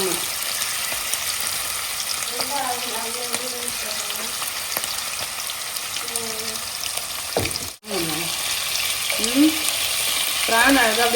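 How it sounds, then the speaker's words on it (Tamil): Prawns frying in hot oil, a steady sizzle running throughout with a brief cut near the end, and faint background tones over it. "இப்போ பிரான் வந்து கொஞ்சம் கொஞ்சமா சேர்த்து கொஞ்சம் கொஞ்சமா பொரிச்சு எடுத்துக்கலாம்."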